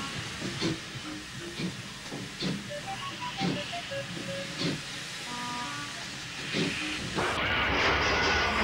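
Steady steam hiss with rhythmic chuffing and clanks from an 1808 steam-powered coach, swelling into a louder rush of hissing near the end.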